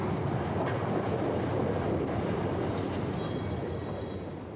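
Passenger train running on rails, a steady low rumble and rolling wheel noise heard from inside the carriage, fairly quiet and even, with faint high squeals near the end and no talk.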